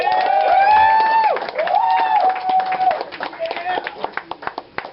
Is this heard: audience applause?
yes